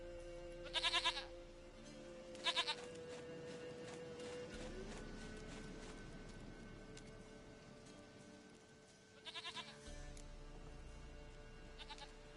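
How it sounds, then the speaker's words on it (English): Goat bleating in The Witcher 3: short, shaky bleats at intervals, two close together early and more near the end, over a steady ambient game backdrop with soft rain-like hiss. "Goat of mine, dearest, sweetest goat."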